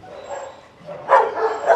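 A golden retriever gives a few short, close barks and yips, the loudest coming in a burst near the end, with no speech over them.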